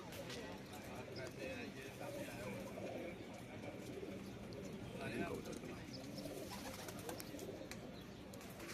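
Pigeons coo and murmur throughout a large loft in Kuwait, a continuous low chorus with occasional chirps, and someone talks over the birds.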